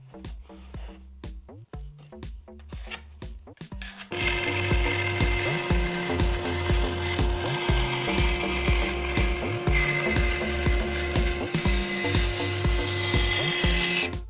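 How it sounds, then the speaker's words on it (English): A bandsaw cuts through a traced piece of bamboo, starting after a few seconds of intermittent knocks and settling into a steady, loud whine and grind that carries on to the end with no talk. "go cut this out on the bandsaw"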